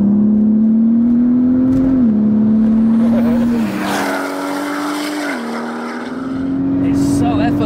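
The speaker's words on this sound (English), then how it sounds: "The tone of the exhaust, really nice. Just hear that boost as well." A turbocharged MK5 Volkswagen Golf R32 with a forged engine, its exhaust note droning steadily and rising through gear changes with subtle turbo boost whoosh, heard from inside the car as people talk over it.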